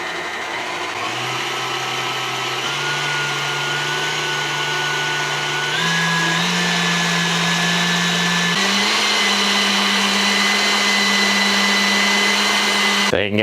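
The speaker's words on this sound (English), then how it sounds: "we're going to use a stand mixer off of the EcoFlow here" A stand mixer powered by an EcoFlow RIVER Pro power station whirs with a loud, steady motor hum that steps up in pitch a few times as the speed rises, then stops sharply at the end.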